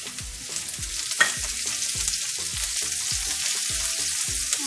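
Curry leaves with garlic crackle and sizzle steadily in hot oil, broad hiss threaded with regular low stirring knocks against the pan, close and moderately loud, no voices.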